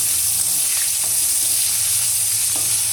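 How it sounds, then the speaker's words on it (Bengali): Capsicum pieces fry in a pan on a home stove, giving a loud, unbroken close sizzle with a couple of faint stirring taps and no speech. "দেখুন এই সুন্দর করে ক্যাপসিকামগুলো একটু ভেজে নিচ্ছি।"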